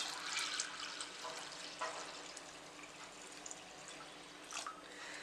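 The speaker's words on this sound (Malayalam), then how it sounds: "അപ്പോൾ ഇതിലോട്ട് നമുക്ക് കുറച്ച് നല്ല വെള്ളം ഒഴിച്ചു കൊടുക്കാം കുതിരാൻ വേണ്ടിയിട്ട്." Water poured over washed rice and urad dal in a bowl for soaking idli batter, quiet splashing and trickling in a few short bursts, near and soft, with no voices.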